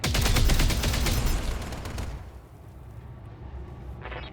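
Heavy weapon fire in a video game roars in a loud, dense barrage of rapid shots, fading after about two seconds into a rumbling lull, with a few fainter shots near the end.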